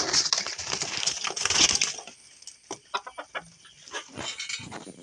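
Backyard chickens cluck in short, scattered bursts close by, following a brief stretch of rustling and scratching, with a few louder peaks among softer murmuring calls.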